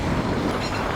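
A freight train of tank cars rolls past on the southbound track, a loud, dense rumble with steady rail noise filling the whole second.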